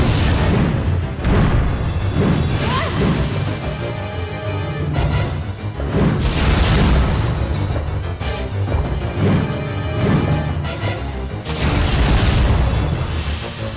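Linear launcher firing in Resident Evil Survivor 2 – Code: Veronica, several loud booming shots with sharp onsets and rumbling tails spaced a few seconds apart over layered game sound.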